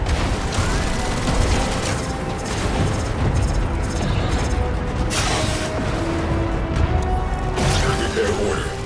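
Railjack torpedoes launching and detonating in the Warframe space combat game, dense continuous booms and crashing impacts layered with mechanical whirring, loud and sustained, with a synthetic voice faintly in the mix.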